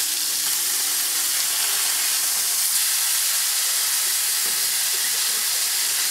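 Smash burger patties sizzle steadily on a hot breakfast griddle as they are flipped, a loud, continuous hiss and crackle filling the whole stretch with no talking.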